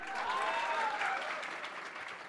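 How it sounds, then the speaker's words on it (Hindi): Crowd clapping in a hall at a Patna coaching centre award ceremony honoring a women's battalion of police sub-inspector recruits, a brisk, even burst of many hands at moderate loudness with no voices over it. "महिला बटालियन के नाम से एक बार जोरदार ताली।"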